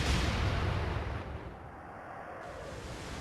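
Warship guns firing in the naval video game Atlantic Fleet, a loud booming blast up front that rolls off into a long fading rumble.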